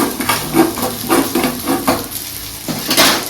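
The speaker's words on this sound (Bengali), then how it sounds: "এখানে সর্ষে আর পোস্তকে একটু কড়াতে দিয়ে দিলাম এই গ্যাসের উপরে দিয়ে এটাকে একটুখানি নাড়াচাড়া করে একটুখানি ভাজা ভাজা মতো করে নেবো" Mustard and poppy seeds are stirred and dry-fried in a pan over a gas flame, with a steady series of scraping, rattling strokes roughly every half second and a light sizzle underneath.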